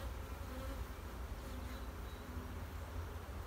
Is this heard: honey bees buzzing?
yes